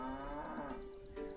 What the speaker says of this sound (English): I heard impatient mooing from the shed.